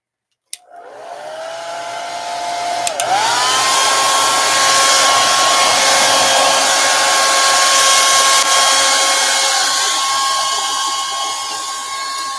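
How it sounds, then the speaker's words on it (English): A hair dryer switches on with a click and ramps up to a loud, steady whooshing whine that holds without interruption. "Hair dryer time."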